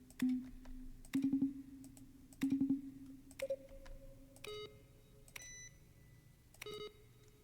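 Short bursts of rapid keyboard clicks mixed with synthesized electronic beeps and tones from The Stanley Parable, in several separate clusters with quiet gaps between.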